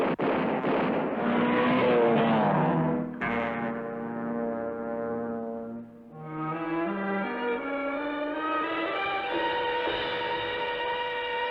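The cartoon Mach 5 race car from Speed Racer roars past, its engine whine sliding down in pitch, dropping away briefly, then climbing again into a sustained high, loud rev with no talking.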